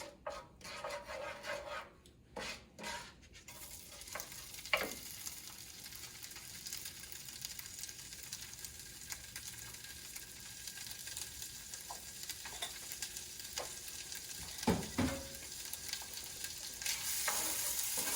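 Rinsed rice being sautéed in a pan for Turkish rice pilav, a constant close hiss of frying with scattered scraping and knocking stir strokes and a few louder clanks near the start and end.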